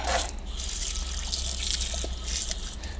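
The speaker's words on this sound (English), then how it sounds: "Let's give that a rinse out under a tap." A tumble dryer filter rinsed under an outdoor garden tap. Water gushes and splashes steadily at close range, fairly loud throughout, with no talking.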